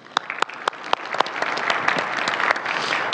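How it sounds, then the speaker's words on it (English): A conference audience breaks into a short round of applause, the clapping building from a few sharp claps into a dense, steady ovation. "I'd just like to give you a quick round of applause"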